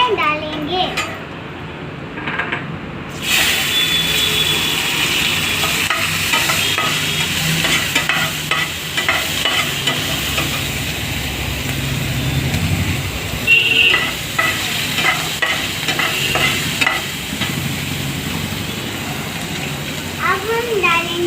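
Capsicum going into a frying pan and being stirred, with steady sizzling and scraping of a spoon against the pan over the whole stretch, a voice speaking now and then.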